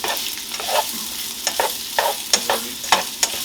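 Sausage browns in a pan with a steady bright sizzle, punctuated by a series of sharp spitting pops and crackles at irregular intervals, close and fairly loud.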